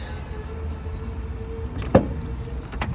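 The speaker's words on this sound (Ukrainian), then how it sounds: "Двигун працює." A 2013 Iveco Daily diesel van engine idles with a low, steady rumble, broken by a sharp click and a brief mechanical whir near the end.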